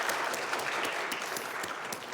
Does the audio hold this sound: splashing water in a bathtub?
no